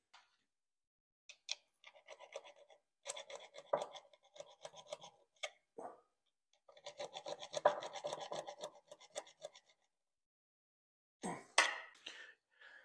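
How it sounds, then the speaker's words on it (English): A metal file rasps down a key for a plate compactor repair in bursts of short, rhythmic back-and-forth strokes, close and clear with pauses between sets, no talking. "So I just quickly filed one down."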